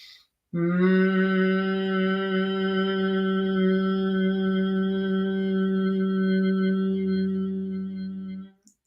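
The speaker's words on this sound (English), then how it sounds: "we're going to be making a humming, a buzzing noise in our throat" A steady, low humming buzz from the throat, bee breath, held in one long unbroken tone for about eight seconds, rich in overtones, close and alone, then stopping abruptly.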